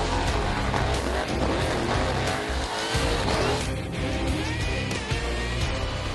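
A burnout car roars at Summernats Burnout Masters in Western Australia, its engine revving hard and continuously alongside screeching, squealing tires, loud and close throughout with the roar surging and dipping.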